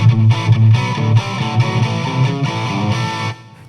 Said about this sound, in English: what absorption really does, as far as I can hear, is put a bit of a room sound.